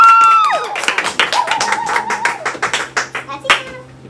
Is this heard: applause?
yes